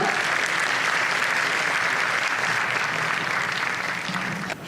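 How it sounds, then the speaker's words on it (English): A school event audience claps for the principal coming to the stage, a loud, dense and sustained wave of applause that continues evenly throughout. "A big round of applause, ladies and gentlemen."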